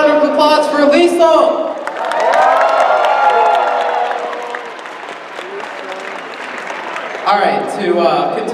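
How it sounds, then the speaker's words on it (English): A sustained burst of applause from a crowd at an anime convention opening ceremony, swelling and then fading, with a voice speaking before and after the clapping. "Let's give another round of applause for Lisa!"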